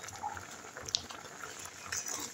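A coconut, jaggery and sugar filling for kuli pitha bubbles as it boils in a pan, giving faint, soft gurgles with a couple of small pops.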